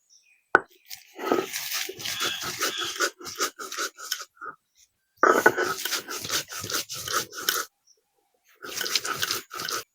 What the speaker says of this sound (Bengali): এবার আমি চিংড়ি মাছটা বাটবো